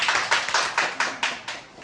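A small group claps for a challenge winner, a close, steady round of hand claps in a brisk, slightly uneven rhythm, with no voices over it.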